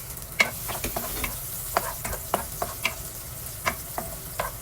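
Garlic fries in a pan as a lechon paksiw base, a soft, steady sizzle broken by repeated close scrapes and clicks of a spatula stirring; no voices.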